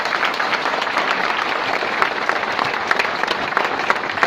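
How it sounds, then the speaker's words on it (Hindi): Loud, sustained applause from a large audience at a motivational speech event, dense steady clapping filling the room without a break, with scattered sharper claps standing out. "एक बार जोरदार तालियां जरा खड़े होकर हमारे मेंटर के लिए, जोरदार तालियां।"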